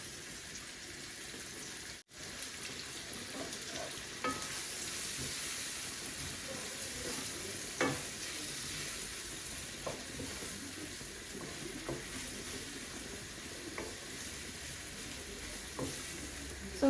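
Onions frying in a pan as they are stirred together with spices, a steady low sizzle with faint scraping taps from stirring now and then, fairly quiet and close, with no voices.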